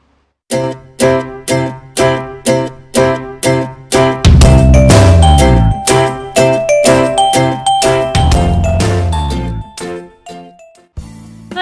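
A bright notification bell jingle rings out in a quick series of repeated chimes, then swells into a sustained shimmering flourish that fades near the end, loud and alone with no talking.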